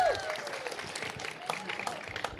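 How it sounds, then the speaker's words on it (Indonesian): Outdoor crowd applause at a political question-and-answer event held in a rice field, brief scattered clapping from a gathered audience with a bit of voice at the start, moderately loud and close. "Tepuk tangan dulu Bapak Ibu-ibu."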